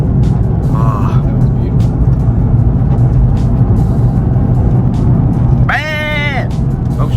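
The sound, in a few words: Nissan 350Z engine while shifting gears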